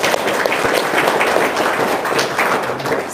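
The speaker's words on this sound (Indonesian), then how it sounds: "Ya, Tepuk tangan dulu dong." Audience at a Friday sermon-style talk session bursts into applause, a dense, steady wash of many hands clapping that holds at full strength for about three seconds with no voices over it.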